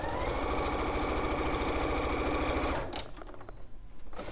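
A sewing machine runs steadily at speed for almost three seconds, stitching a cushion seam with a 1/4 inch allowance, then stops, leaving quieter handling noises and a brief high whine. No one talks.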